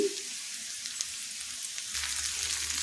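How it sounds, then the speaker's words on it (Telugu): Onions and tomatoes sizzle steadily in a pan while making stuffed ridge gourd, a soft broadband crackle that swells louder near the end as the tomatoes go in. "ఉల్లిపాయలు అయితే ఇంకా వేగుతున్నాయండి టమాటా కూడా వేసుకుంటున్నాను నేను దీంట్లోకి"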